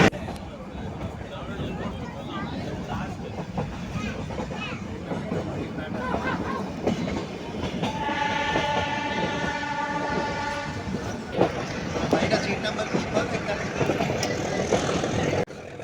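The Nilgiri Mountain Railway toy train at Ooty rumbles and rattles along its track while people talk nearby; partway through a sustained horn-like tone sounds.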